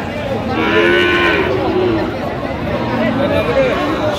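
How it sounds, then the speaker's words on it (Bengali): A Shahiwal bull calf lows loudly at a busy cattle market in Cox's Bazar, a drawn-out moo over a constant hubbub of crowd chatter and nearby voices. "ষাঁড় বাচ্চা।"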